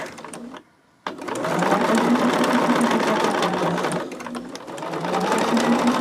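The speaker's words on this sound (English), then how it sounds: "So now I'm going to sew the other 4 sides." A sewing machine stitching quilt block pieces for a pumpkin quilt, a steady close whirring hum that starts, pauses briefly, then runs on continuously.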